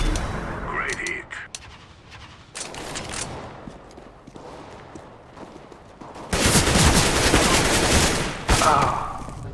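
Gunfire in Counter-Strike: Global Offensive, with dense bursts of rapid shots and clattering weapon noise, loudest in a sustained volley near the end, while a voice speaks briefly over the action.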